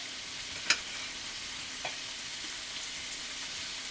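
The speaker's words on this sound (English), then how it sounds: "I don't like to cook bacon any more than about medium heat." Bacon frying in a pan over medium heat, a loud, even, close sizzling hiss that runs throughout, with one sharp pop and a couple of fainter spits, with no voices.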